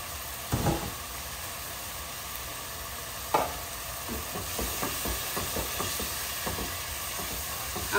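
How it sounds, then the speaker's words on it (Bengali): Spices sizzle in hot oil with tomato and peeled shrimp, a steady frying hiss broken by occasional sharp clatters of stirring, close up and with no talk. "আমার মশলাগুলা ভাজা ভাজা হয়ে গেছে"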